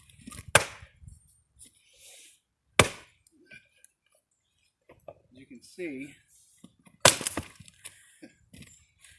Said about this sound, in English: I'm just chopping up a little wood here.